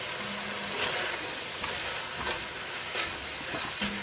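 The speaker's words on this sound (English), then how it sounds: "Please remember to cook this for a couple of minutes to cook off that raw flour taste." Flour cooking in a pan for a chicken, herb and vegetable casserole gives a steady, close frying sizzle and hiss, with a few brief stirring scrapes and clatters running through the whole stretch.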